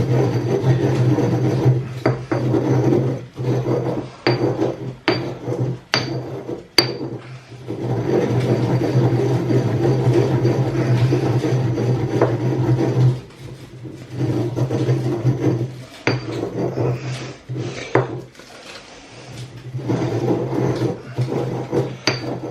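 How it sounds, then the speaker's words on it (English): Salt being ground for seasoning a roast chicken, heard as repeated close rasping, crunching bursts with short pauses between turns, steady and fairly loud. "You could actually probably spend most of this video watching me grind salt."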